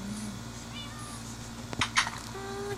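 Cats meow in a cat cafe within a video game, with a few short mews and a brief tonal call over a soft ambient backdrop. A sharp click and a small burst are heard near the end.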